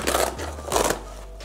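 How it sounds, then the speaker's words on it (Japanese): A hook-and-loop divider inside a two-level camera bag is pressed down into place, making two brief rough scratchy rustles of fabric close up, with a low steady hum underneath. "仕切りがこれマジックテープになってるので、これをギュッと下に"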